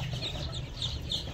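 Sonali chicken chicks, about 13 days old, peep and cluck in a brooder, with repeated soft chirps over a steady low hum, close and fairly faint.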